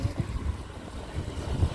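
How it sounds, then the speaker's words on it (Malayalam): Low, gusty wind buffeting the microphone in uneven bursts while a kite is flown outdoors, a muffled rumble with no voices. "കാറ്റ്"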